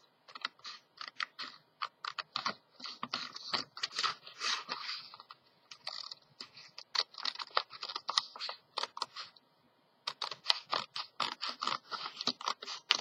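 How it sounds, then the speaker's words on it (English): Scissors cutting paper along a black line, a close run of crisp snips and crunchy slicing strokes in rapid bursts with short pauses between them. "I'm just going to cut on the outside of that black line."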